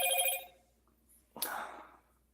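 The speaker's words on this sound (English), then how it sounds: "this phone don't stop." A telephone rings once in a short electronic burst that fades out, followed after a pause by a brief, louder broadband clatter, in an otherwise quiet room.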